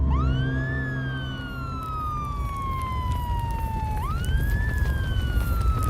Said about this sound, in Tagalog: narinig na namin ni Javier ang malakas na sirena ng bumbero sa malayo.